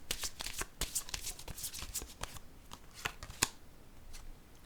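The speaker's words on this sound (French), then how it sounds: "Je vais déposer une carte ici." Tarot cards are handled and laid down during a card reading, a rapid, close run of crisp paper flicks and taps with no voice over them.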